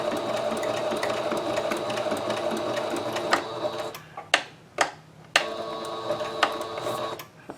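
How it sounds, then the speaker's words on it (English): Sewing machine running a back-stitch line across a fabric pouch for a wheelchair or walker: a steady whirring hum for about three seconds, then short stop-start bursts of stitching with brief pauses between. "run it through once and then back stitch all the way across"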